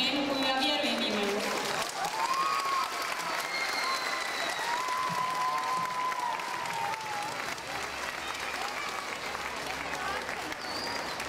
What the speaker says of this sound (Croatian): Molim vas za jedan ogroman aplauz kako bi razbili tremu koju ja vjerujem imaju.